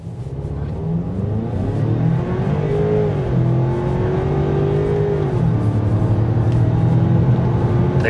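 A turbocharged Chevy SS truck accelerates hard for about eight seconds, its engine note climbing steadily through the gears with a loud, continuous drone heard from inside the cab.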